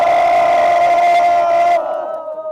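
Loud crowd cheering and shouting at an outdoor press conference about dismissed teachers, sustained and dense for most of the moment, then abruptly thinning to a quieter tail near the end.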